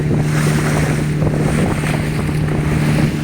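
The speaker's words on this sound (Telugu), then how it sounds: "ఇది ఫిష్ హార్బర్." Wind-buffeted ambience at the Pondicherry fishing harbour, with lapping waves and a low steady engine hum from nearby boats, no talking.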